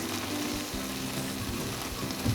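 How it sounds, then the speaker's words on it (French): A mustard, milk and cream sauce sizzles in a frying pan, giving a loud, steady crackling hiss up close that runs without a break and has no voices over it. "Et là je vais faire une sauce moutarde lait crème, voilà, directement dans la poêle pour que ça prenne bien tous les sucres."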